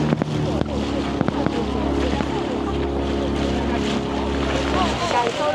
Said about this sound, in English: Oh, now we're sailing.